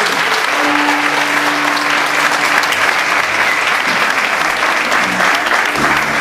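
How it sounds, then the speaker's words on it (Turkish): A concert audience at a bağlama course performance claps steadily, a full, even round of applause from a hall of people, with a few faint tones and voices beneath it. "Alkışlar"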